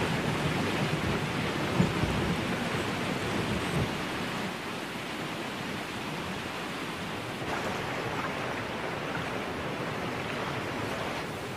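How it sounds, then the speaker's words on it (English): A thunderstorm with heavy, steady rain pouring down, a dense continuous hiss punctuated by a low rumble of thunder early on, close and loud throughout with no voices. "I'd waited a long time for this rain. Now it had come."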